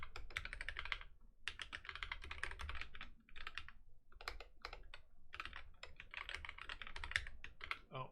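Quick bursts of typing on a computer keyboard, close and crisp, with rapid key clicks in clusters broken by short pauses and no talk.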